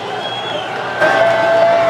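Football crowd at an Eau Claire North high school game rising in a cheer for the Huskies, a broad roar that swells louder halfway through, with whistles and talk underneath.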